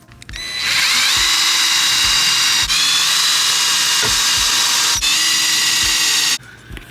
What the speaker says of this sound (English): I've got a special bit that's gonna actually go through the steel, and I'm just gonna make my little pilot hole